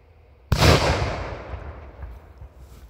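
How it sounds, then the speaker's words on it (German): A homemade 40g BKS firecracker goes off about 30 metres away: one sharp, loud bang after a quiet moment, then a rolling rumble that slowly fades over the next two seconds. "Ja, das war ein ordentlicher Knall."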